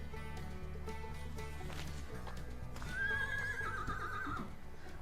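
A mare on a horse farm gives a loud, shrill whinny lasting over a second, with restless shuffling and faint hoof clip-clops around it, close to the listener.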